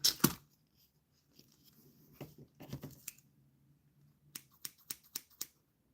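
Scissors trim a resin craft piece, giving a loud snip at the start, softer rustling and handling, then a quick series of five sharp, close cuts.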